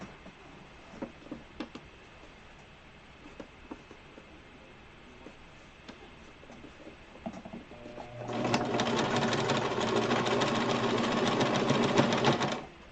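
A sewing machine stitching a cloth face mask, first quiet ticks and handling noises, then a loud, steady mechanical whirring run of rapid stitching for about four seconds before stopping.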